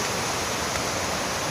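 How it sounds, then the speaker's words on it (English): Small, fast-flowing river on the Appalachian Trail rushing in a steady, loud broadband roar, continuous and close with no voices. "Got a small river I have to ford. It's gone pretty fast."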